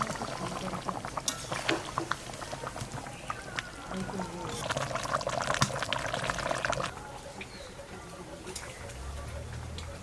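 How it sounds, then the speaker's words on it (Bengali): Water poured into a simmering fish curry (doi katla) in a pan, a moderate splashing pour with clatter and sizzling, under a person talking, fading to quieter bubbling at the end. "এখন জল দিয়ে দেবো"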